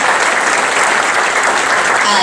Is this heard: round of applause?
yes